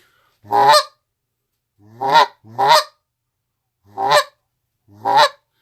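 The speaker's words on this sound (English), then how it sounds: "Now do a low cluck." Five short, deep low clucks on a goose call, loud and close, two in quick succession and the rest spaced apart with silence between.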